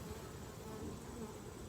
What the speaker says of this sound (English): A lot of bees up on top.